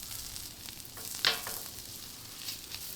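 Onions frying in butter on a low-heat griddle give off a steady, soft sizzle, with one brief louder crackle partway through.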